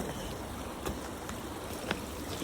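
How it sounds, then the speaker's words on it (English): The Truckee River flows past in a steady, soft wash of moving water, with a few faint clicks and splashes breaking through now and then; no one speaks. "It's a nice river, it really is. I think this is the Truckee River."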